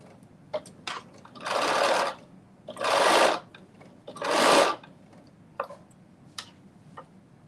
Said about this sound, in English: So I'm just sewing all the way around this circle slowly